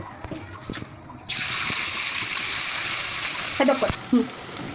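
Green chilies and onions dropped into plenty of hot oil, a sudden loud sizzle bursting in and holding steady, with faint talk and a couple of clinks before and during.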